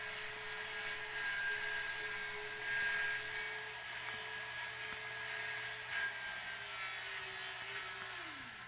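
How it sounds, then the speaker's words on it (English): A power saw cuts through house siding at a residential insulation job, a faint steady whine carrying with some distant background rumble and a tone that drops away near the end. "The crew is now cutting off one piece of siding as they work their way around the house."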